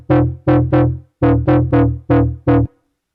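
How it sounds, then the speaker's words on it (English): Punchy FM synthesizer bass stab patch with EQ applied, played as eight short, loud stabs in a syncopated rhythm with brief gaps, ending in silence. "this simple frequency modulated bass stab"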